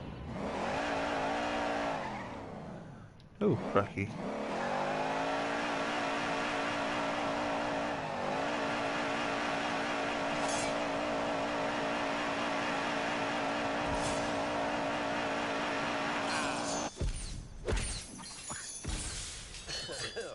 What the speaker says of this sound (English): I'll just make wheel spin. Wheel spin, that just makes a huge amount of noise.